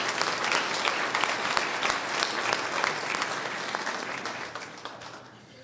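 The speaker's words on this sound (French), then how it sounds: "Est-ce qu'on peut vraiment les applaudir ce matin?" Applause from a church congregation for children at a first communion Mass, steady dense clapping that tapers off toward the end, with no speech over it.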